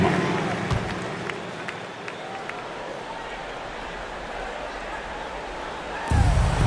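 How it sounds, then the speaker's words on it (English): Crowd noise fills an NBA arena during a Lakers versus Spurs basketball game timeout for the dance team, a broad, sustained roar and applause with scattered squeaks and thumps, a voice briefly audible above it. "Big round of applause. Your dance team."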